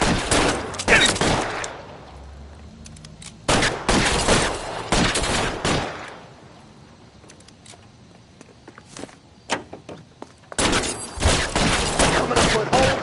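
Gunfire in the video game L.A. Noire, with several loud bursts of rapid shots separated by quieter stretches that carry scattered lighter cracks and footstep-like sounds.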